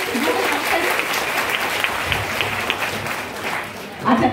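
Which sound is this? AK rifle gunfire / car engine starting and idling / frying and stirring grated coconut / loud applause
loud applause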